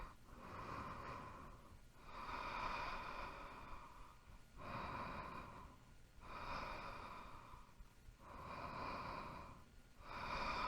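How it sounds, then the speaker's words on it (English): Slow, steady nasal breathing during a Kundalini yoga backbend, with long airy inhales and exhales alternating in an even rhythm, close and fairly soft, with no voice. "Keep breathing through the nose."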